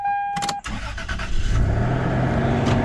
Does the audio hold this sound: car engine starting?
yes